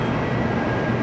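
Shinkansen high-speed train in Japan running steadily, a continuous loud rumble and rolling hum with no break, no voices over it.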